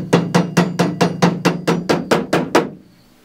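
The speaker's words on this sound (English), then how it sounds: "This one's a little crankier, so we'll use our hammer." Eleven evenly spaced hammer blows ring out as a metal Hard Dog Transformer roll bar is tapped into place, each strike sharp and close with a short metallic ring, before stopping abruptly.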